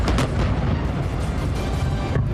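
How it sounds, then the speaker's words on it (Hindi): A deep, continuous roaring blast with heavy low-end rumble and crackling debris, sustained and loud throughout, from a powerful explosion of about 450 kg of explosives blowing up a tunnel. "टनल को उड़ाने के लिए किया गया विस्फोट इतना शक्तिशाली था"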